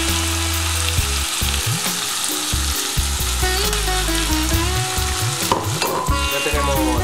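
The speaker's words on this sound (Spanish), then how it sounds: "Y lo rehogamos todo bien hasta que esté más o menos pochado todo." Zucchini, onion and blood sausage with salt sautéing in a pan, a close, loud, unbroken sizzle with fine crackle, while backing music with a steady pulsing bass line plays underneath.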